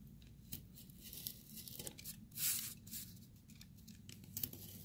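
Scissors snip through a paper triangular prism template in a run of crisp, irregular cuts with papery tearing and crinkling, close and fairly quiet, with no talking.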